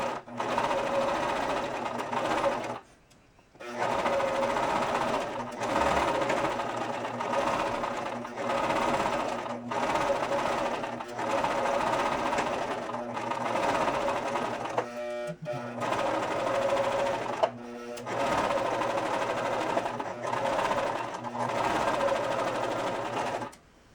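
A sewing machine stitches folded fabric strips for a Wicked Witch replica costume, humming in long steady bursts with brief stops between runs, close and prominent, without talk.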